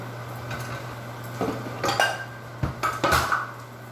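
A bowl and dishes are handled in a kitchen: a quiet start gives way to several clustered clinks and knocks of crockery and utensils in the second half, close and fairly loud against a low hum.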